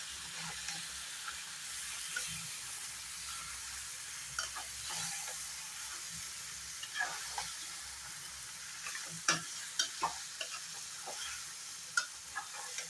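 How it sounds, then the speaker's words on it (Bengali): Chicken being stirred and mixed in a pan, with a steady frying sizzle and scattered scraping clicks from a spoon, nearby and moderately loud, no talking. "সব কিছু ভালো করে মিলিয়ে নেব।"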